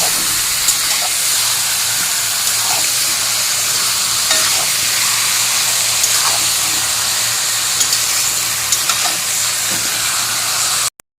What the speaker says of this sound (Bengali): তো এইভাবে নাড়াচাড়া দিয়ে দিয়ে মাংসটা ভালো করে কষিয়ে নেব।